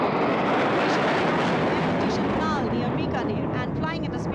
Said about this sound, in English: अमृत formation 5 Jaguar विमान, भारत की सुदृढ़ वायु शक्ति का प्रदर्शन